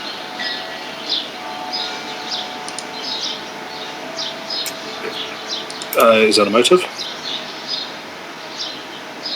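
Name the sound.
birds singing outside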